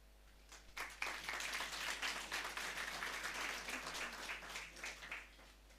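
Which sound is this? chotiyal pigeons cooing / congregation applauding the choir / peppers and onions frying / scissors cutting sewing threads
congregation applauding the choir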